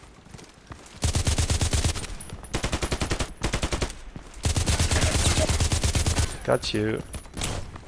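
Rapid bursts of small-gun fire, likely the Escorpiao, in the online shooter Contract Wars. Close, loud volleys come in several fast strings, and a voice speaks briefly near the end.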